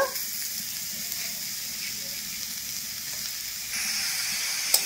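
Grated coconut and jaggery sizzle steadily in a hot wok, with occasional scraping stirs and a brief clink near the end.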